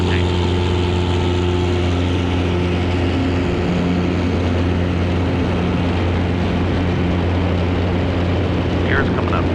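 Steady propeller drone and engine hum of a Cessna Cardinal RG climbing out after takeoff, heard from inside the cabin as a constant loud tone with voices talking over it.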